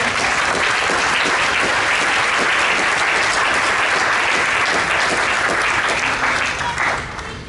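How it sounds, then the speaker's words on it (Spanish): A church congregation claps together in sustained, dense applause that holds steady for several seconds before tapering off at the end. "Dense un aplauso a la iglesia."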